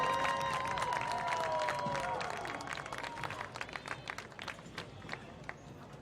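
Crowd applause at a high school marching band invitational as the Bishop Union High School Bronco Marching Band and Color Guard leave the field, steady claps from a stadium crowd, with a fading tone over it early on.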